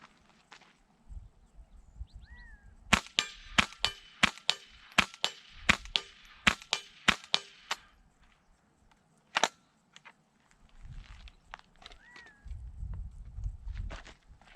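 Suppressed Ruger 10/22 rifle fired outdoors in a quick run of sharp, muted cracks in uneven rhythm, followed by a lone shot and low rustling handling noise.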